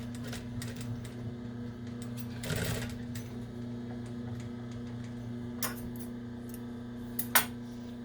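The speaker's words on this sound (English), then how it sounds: "wrap it over that raw edge, sew to the end, and back stitch" Sewing machine running steadily as it stitches fabric for a dinosaur hooded towel, sewing to the end of a folded raw edge and back stitching, a continuous close whirring hum with a few brief clicks near the end and no talk.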